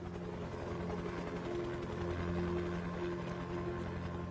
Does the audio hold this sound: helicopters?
yes